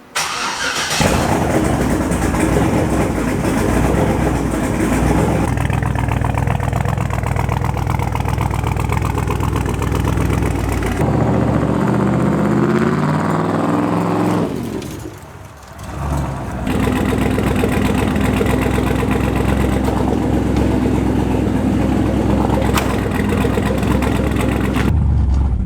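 A twin-turbo Chevrolet Malibu fitted with new large turbos runs on a cold start, its engine droning loudly and steadily close by, dipping briefly in pitch and level midway before settling back to a rough, constant run.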